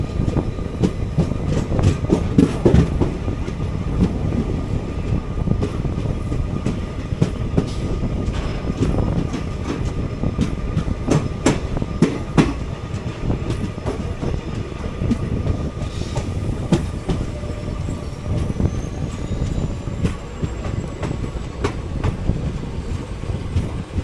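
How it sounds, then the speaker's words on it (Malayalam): The Ernakulam–Pune Poorna Express rolls into Karwar station, a steady rumble with irregular wheel clicks and clatter over the rail joints and a faint thin squeal near the end, with no voices. "നമ്മളങ്ങനെ കാർവാർ സ്റ്റേഷനിലേക്ക് എത്തിയിരിക്കുകയാണ്."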